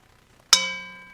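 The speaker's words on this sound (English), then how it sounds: "I'm welcoming you in the way that we do it every Sunday with the ringing of the gong" A gong struck once at a Sunday gathering gives a sudden loud metallic clang, then a bright sustained ring that slowly fades, alone in a quiet room.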